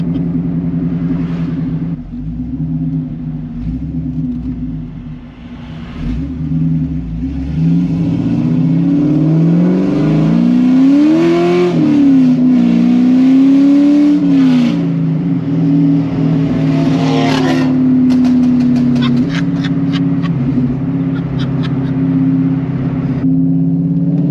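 Loud, throaty exhaust from a C5 Corvette with long-tube headers revs up and down close by, pitch climbing and falling over a rumbling idle, with no talking.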